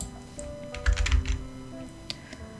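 A computer keyboard clicks out a short burst of quick keystrokes for Blender 3D modeling shortcuts, with a couple of isolated taps afterward, close and clear over a faint hum.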